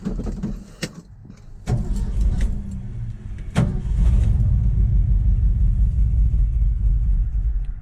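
A Buick's engine cranks and catches after a few clicks and clunks, then settles into a steady, low, rumbling idle close by.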